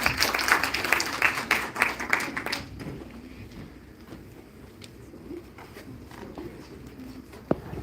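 An audience at a talk on longevity and ageing at JIMS Kalkaji, New Delhi, gives a short round of applause. The clapping fades after about three seconds into quiet room noise with a single later tap.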